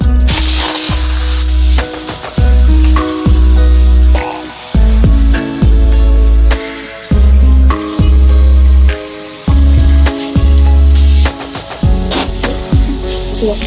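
Chicken pieces frying without oil in a hot kadai over a medium gas flame, giving loud, steady sizzling broken by repeated rhythmic bursts as the meat is tossed and stirred.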